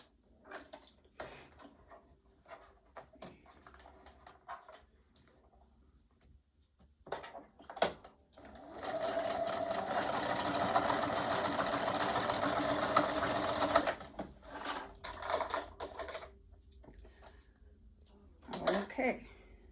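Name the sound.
sewing machine stitching fabric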